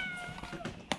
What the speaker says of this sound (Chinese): 小猫咪